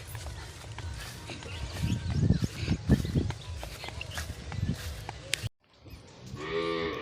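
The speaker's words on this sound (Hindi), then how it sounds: "गाय भैंस को पानी पिला के अंदर बांध दिया है।" Cows and buffaloes low nearby amid shuffling and thuds, then after a brief pause a single drawn-out moo sounds close by.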